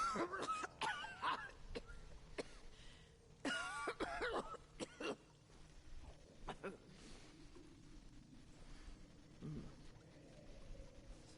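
A character coughs and clears the throat in the game Remnant: From the Ashes, several rough bursts up close early on, then quieter rumbling game ambience follows with a few softer sounds.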